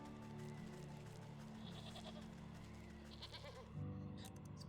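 Goats in the game Wytchwood bleat a few times, quiet and slightly wavering, over soft ambient game music.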